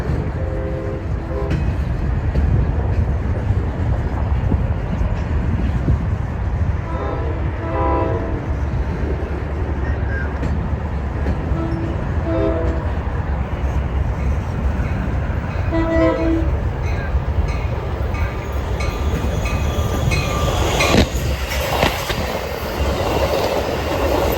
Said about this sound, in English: Next would be inbound Metro 2706, hauling and being pushed by Metro Mac 505.